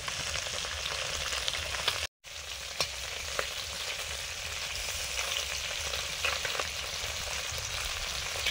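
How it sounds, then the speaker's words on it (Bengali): Parshe fish frying in a pan of oil, giving a continuous close sizzle with scattered pops and a few stirring knocks. A brief dropout interrupts it near the start. "পার্শে মাছগুলো ভাজা হচ্ছে।"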